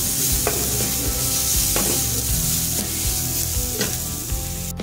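Sliced onions frying in oil with salt added, a constant loud sizzle from close by, broken by a few sharp scrapes of a spoon stirring against the pan at roughly one-second intervals.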